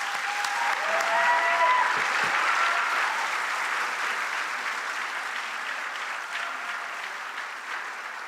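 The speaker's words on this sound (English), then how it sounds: "Let's give them a round of applause." An audience at a high school academic awards ceremony gives a sustained round of applause that swells early, then gradually thins, with no talking over it.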